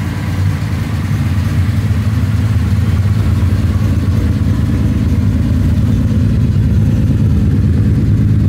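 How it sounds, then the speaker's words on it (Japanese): A Nissan Skyline Kenmeri in R-spec trim with non-stock flares and alloy wheels idles through a loud aftermarket exhaust, a steady deep rumble held close by in a parking lot, with no talking. "ド迫力のマフラーにねかっこいい爆音がね聞こえてますよ。"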